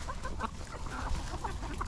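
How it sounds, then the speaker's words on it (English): A hen eating off the ground makes soft, intermittent clucks at close range, with a low background hum and no talking. "Now that's a good chicken, Ransom."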